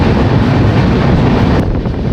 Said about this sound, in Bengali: ওই যে টানেলটা থেকে ট্রেন ধীরে ধীরে বেরিয়ে আসছে